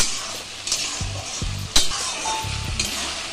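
Garlic and ginger masala sautéing for a mutton curry, a steady loud sizzle with scraping stirs from a utensil and a few light clinks against the pan, close up and with no voices.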